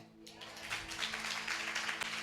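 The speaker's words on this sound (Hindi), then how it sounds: "ताली है" A church congregation at a Sunday worship service breaks into steady, sustained applause, a dense wash of clapping filling the room.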